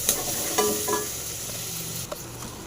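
Onions fry in a pan for a broad bean and drumstick kara kuzhambu, producing a close, constant sizzle broken by several spoon clinks and scrapes as they are stirred.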